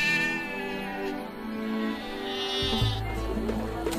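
Sheep bleat in long, wavering cries, one overlapping another, fairly close and steady for the whole stretch, with a low rumble coming in near the end and no talking.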